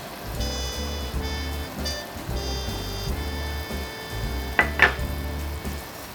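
Balsamic and white vinegar sauce, thinned with water, boils in a pot over high heat, giving a soft, steady bubbling sizzle beneath gentle background music.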